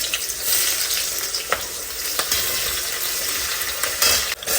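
Onions sizzle and fry steadily in hot oil in a wok, a loud, continuous hiss with occasional stirring clinks and no voices.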